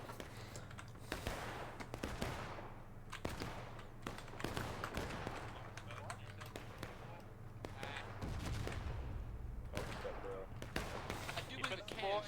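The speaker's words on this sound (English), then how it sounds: "I do believe the cannons went over our head." Cannon fire in a video game battle: repeated booming shots and crackling gunfire over a continuous rumble, with someone talking throughout.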